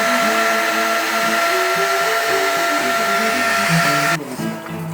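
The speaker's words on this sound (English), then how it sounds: "Then the heat gun to glue it together." Heat gun blowing hot air to shrink glued heat shrink tubing on a battery cable in a self-built Sprinter campervan; a steady close whine with a wavering motor tone that cuts back sharply near the end.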